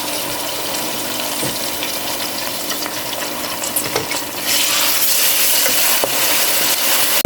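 Fried onions sizzling in oil with garam masala, cardamom, cinnamon, bay leaf, garlic paste and ginger paste for beef haleem, a continuous close hiss with spoon stirs that swells louder and brighter partway through.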